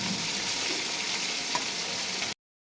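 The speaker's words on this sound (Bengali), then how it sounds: "ম্যারিনেট করে রেখেছিলাম, এখন এটাকে আমি ভেজে নিব।" Marinated taki fish sizzling in hot oil, a dense, even frying crackle with faint stirring taps, close and steady before cutting off abruptly to silence.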